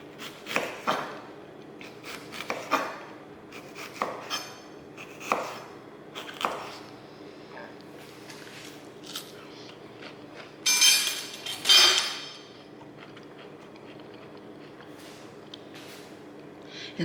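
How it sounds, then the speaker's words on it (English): A knife slices a pear on a cutting board, with a series of sharp, close chopping taps spaced irregularly and a couple of louder scraping strokes near the end, heard without talk. "In slicing this pear, I find that it's not very sweet"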